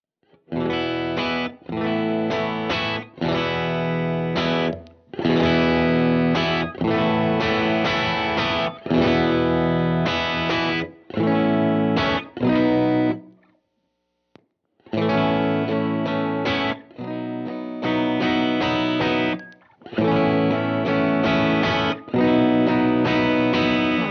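Clean electric guitar through a compressor pedal playing chords with smooth, even sustain and steady level, strummed phrases separated by brief pauses.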